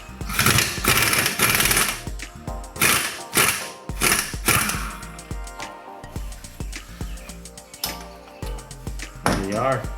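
A ratchet loosens 22 mm bolts on a car suspension strut during a strut replacement, giving close, rhythmic metallic clicking in quick repeated bursts.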